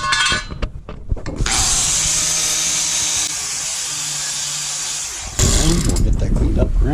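A power tool, likely a grinder, whines steadily as it cleans the metal of a lawnmower deck ahead of welding, with clattering handling sounds before and after the continuous run.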